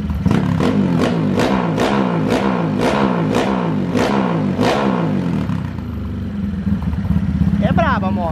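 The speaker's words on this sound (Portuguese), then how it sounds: "Olha aí, rapaziada, a moto, que top," Modified motorcycle engine revving hard in repeated sharp bursts, a rapid series of throttle blips with a rough, clattering idle between them, loud and close; the revving settles into a steady rumble near the end, and voices talk over it.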